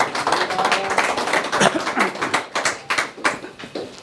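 A church congregation at a Sunday service claps for the pastor, a brisk, uneven patter of many hands at moderate loudness, with faint voices mixed in.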